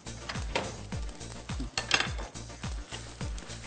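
Utensil scraping and clinking against a pan while vegetables are stirred, a series of close, rhythmic strokes about every half second, with faint sizzling of the cooking vegetables underneath.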